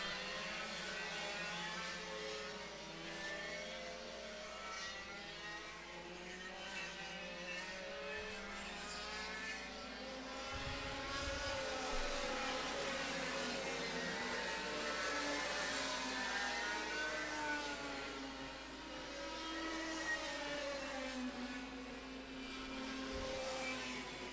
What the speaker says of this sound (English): 15 karts out on circuit with the pre-2000s and pre-95s